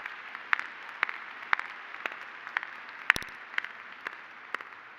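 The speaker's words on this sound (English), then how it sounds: "Can we just give you all a round of applause, like, wow." Clapping at the Columbia Nursing 2022 graduation ceremony comes as slow, evenly spaced sharp claps about twice a second over a low room hum.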